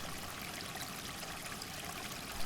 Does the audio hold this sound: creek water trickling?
yes